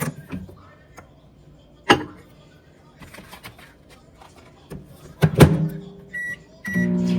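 A few sharp clicks and clatters, then a steady low electrical hum starts near the end, like a microwave oven switching on to heat.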